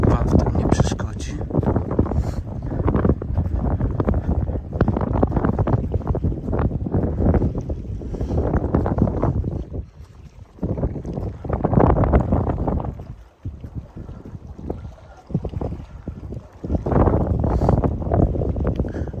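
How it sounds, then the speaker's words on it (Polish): Steady roar of wind and surf along the Baltic shoreline at Jurata, sea and bay waves, broadband rushing noise that swells and dips, with wind buffeting the microphone throughout. "Szumu zatoki, szumu morza."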